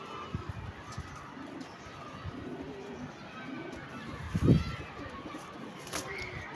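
Pigeons cooing softly at a loft, with low, breathy coos rising now and then, one louder burst near the middle, over a steady noisy background.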